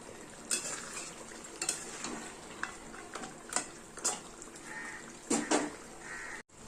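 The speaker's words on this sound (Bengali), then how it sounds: "ভালো করে একটু নেড়ে চেড়ে দিতে হবে" Utensil scraping and clinking in a pot of fish-head muri ghonto made with katla fish head, irregular near taps and scrapes with a faint background hiss, no talk.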